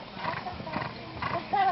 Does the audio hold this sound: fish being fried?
no